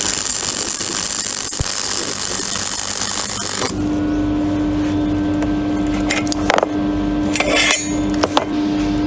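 Semi-automatic welder laying a bead on a kitchen car, a continuous crackling sizzle with bursts of sharper sputtering, close and loud, following a stretch of broadband hiss.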